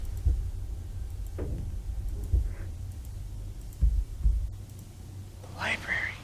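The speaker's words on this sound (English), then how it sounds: "It's like a heartbeat or something." Deep, muffled heartbeat thuds from the Nancy Drew game Treasure in the Royal Tower pulse at uneven intervals over a constant low drone, while a faint voice murmurs quietly in the background.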